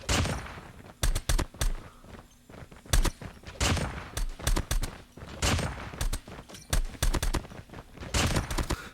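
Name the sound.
Man-O-War gunfire, video game COD Mobile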